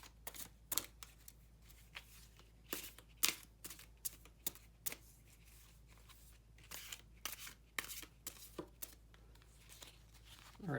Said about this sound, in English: This deck's a little bit tougher to shuffle. It's very long and narrow